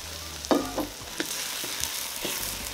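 Chili paste hitting a hot pan sets off a steady, bright sizzle of frying, with a few stirring clinks and scrapes on top and no talking.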